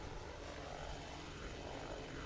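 A hovering drone in the Batman Arkham Knight video game gives a steady, dense rotor and engine drone, constant and fairly loud throughout with no talking.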